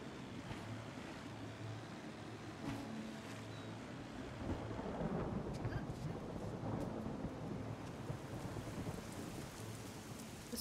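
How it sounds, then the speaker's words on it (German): Rain and rolling thunder in the underwater-world game Submerged, a steady wet rain hiss with low rumbles building and swelling midway, fairly faint overall. "Und warum donnert das jetzt?"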